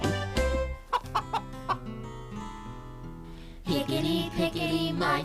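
A hen clucking in a series of short, close, spaced clucks, followed by a louder burst of squawking cackles.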